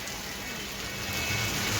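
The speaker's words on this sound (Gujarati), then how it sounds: "એવો મિત્રો વરસાદ આવ્યો છે ભાવનગરમાં" Rain falls steadily in Bhavnagar, a continuous even hiss of drops on surfaces close by, with no voices heard.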